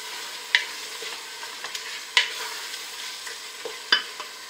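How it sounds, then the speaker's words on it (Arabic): Ingredients are stirred in a cooking pot for Moroccan harira soup with vermicelli, heard as faint soft scraping and a few sharp metallic clinks of the utensil against the pot over a quiet background. "كنحركهم هكذا"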